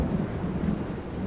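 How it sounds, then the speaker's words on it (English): Thunderstorm in a custom battle in a gunpowder-era strategy video game, with foggy weather: a steady low rumble of rolling thunder and rain noise fills the whole stretch at moderate level, with no voices. "This is fog and thunderstorming"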